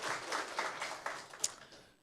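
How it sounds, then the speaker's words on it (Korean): A church congregation gives a short round of applause during a Sunday service, with soft, scattered clapping heard at moderate distance for about two seconds before it fades. "우리 하나님께 영광의 박수 올려드리겠습니다"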